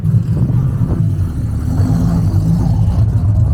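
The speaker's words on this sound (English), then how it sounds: "This GTO is fucking lopey." A Pontiac GTO idles with a lopey, uneven cam, giving a loud, close, low engine rumble that pulses irregularly and runs throughout with no talking over it.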